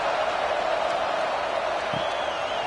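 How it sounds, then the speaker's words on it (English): Steady stadium crowd roar in EA Sports College Football 26 during LSU Tigers vs Clemson Tigers, a dense continuous wash of cheering with a commentator talking over it. "this crowd now ready to get behind them"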